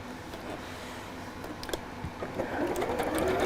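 A sewing machine stitches a buttonhole on fabric backed with tearaway stabiliser, making a close, rapid mechanical chatter that runs in short bursts and grows steadier and louder toward the end, with no talking.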